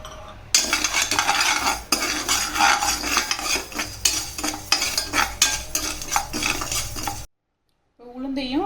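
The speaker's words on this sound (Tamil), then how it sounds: "இப்போ நம்ம பச்சரிசியையும் வறுத்து எடுத்துக்கலாம்" Raw rice dry-roasting in a pan, stirred continuously so the grains rattle and scrape against the metal in rhythmic loud strokes, then a brief silence before a short final sound.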